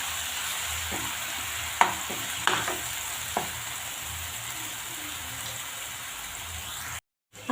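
Onion and ground masala paste frying in a pan, a soft continuous sizzle with a few sharp spatula scrapes and stirring clicks, then a brief silence near the end.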